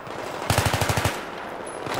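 A short rapid burst of gunfire in the video game Battlefield 3, about eight quick shots in a steady rhythm, over constant background noise.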